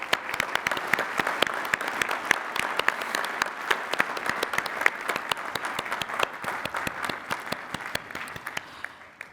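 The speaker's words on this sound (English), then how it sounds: "Please join me in congratulating them with a hearty round of applause." Commencement audience at Lehigh University applauding newly conferred doctoral graduates: sustained, dense clapping from a large crowd, steady and fairly distant, fading slightly toward the end with no talk.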